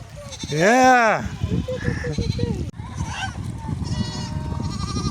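Goats bleat up close, one long wavering cry followed by shorter calls, mixed with people talking nearby.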